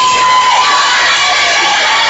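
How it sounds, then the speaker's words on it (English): Dense crowd noise at a TCU versus Air Force volleyball match, a steady wash of cheering and shouting voices filling the gym, loud and continuous throughout. "Huge crowd here"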